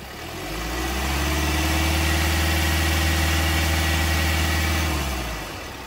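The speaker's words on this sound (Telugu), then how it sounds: "సింగిల్ సెల్ఫ్లో అయితే వెహికల్ స్టార్ట్ అవుతుంది" A Hyundai Creta 1.6 SX diesel engine idles with a deep, steady rumble that fades in and out at the edges, holding an even pitch throughout.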